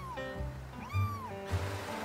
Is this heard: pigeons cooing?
no